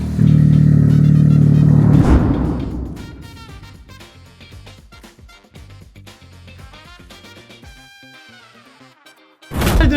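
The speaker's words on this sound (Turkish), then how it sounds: "Bak egzozu açık hali bu." An engine revs loud and close at the start, then clattering and knocking sounds carry on at a lower level, with another loud burst at the very end.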